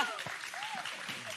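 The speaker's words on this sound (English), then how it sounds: "Yes, please clap." A crowd at the start of a WalletCon 2024 talk applauding steadily throughout, a dense wash of clapping, with a few voices calling out faintly over it.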